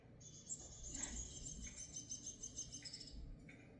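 Faint, high bird chirps and trills repeat steadily and quickly, played back from a screen for a cat to watch, with a low background murmur and no speech.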